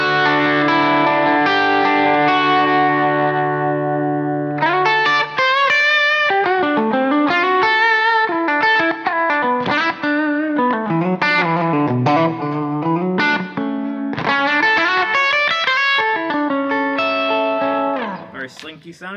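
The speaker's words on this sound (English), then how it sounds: "Let's clean down this tone a little bit just to get some more kind of crunchy tones." Gibson Goddess electric guitar played through distortion and effects, giving a crunchy, saturated tone with sustained chords and busy riffs, loud and continuous with no talking over it.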